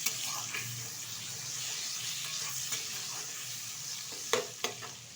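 Chicken stirred with turmeric powder sizzles softly in a pan. A steady fry hiss runs under scattered spoon scrapes, with two sharper knocks near the end.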